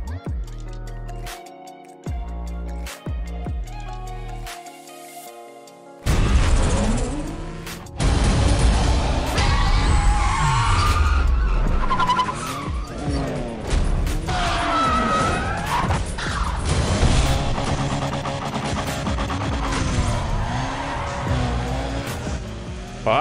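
Need For Speed Undercover sprint race in a Lancer: after a few seconds of menu music, loud continuous engine roar with rising and falling revs, gear shifts and occasional tire squeal fills the rest, with a voice briefly audible.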